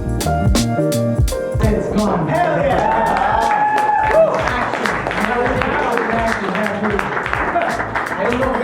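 An audience breaks into a big round of applause at a live event, dense sustained clapping with scattered cheers and whoops, loud and close, with a voice speaking over the crowd.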